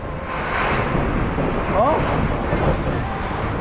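Strong storm wind gusts from behind during an evacuation, a loud, continuous roaring rush of air buffeting the microphone throughout.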